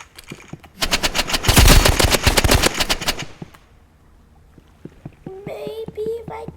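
Rapid gunfire from a handgun in the Roblox Rivals video game, a dense loud burst of shots lasting a couple of seconds, followed by quieter scattered game sounds and a brief voice near the end.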